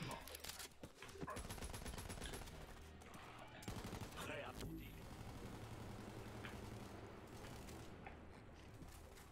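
Assault rifle fire in Borderlands 3, with bursts of shots and mechanical clatter running through busy game sound, dense and sustained across the whole stretch.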